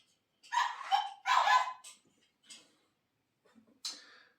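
A dog barks nearby, two strong barks in quick succession, then a few softer yips and one final bark after a pause.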